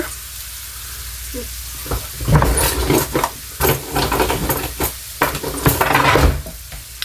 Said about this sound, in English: They're frying a little faster than I wanted them to